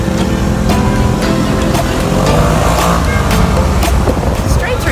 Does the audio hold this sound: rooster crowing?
no